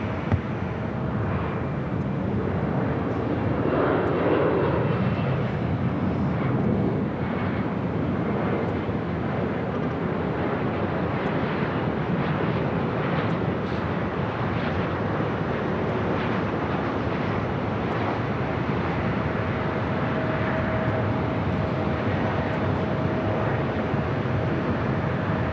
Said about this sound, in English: we got that Jazz CRJ up next for arrival